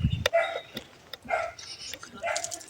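Dogs bark outdoors on a morning walk in Sierra Leone, several short, fairly close barks spread across a few seconds against quiet open-air surroundings.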